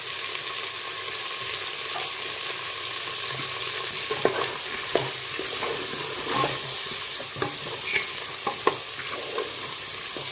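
Potatoes, brinjal and tindora sizzle in a frying pan while being stirred, a continuous moderate hiss broken by scattered scraping clicks of a spoon against the metal; nobody speaks.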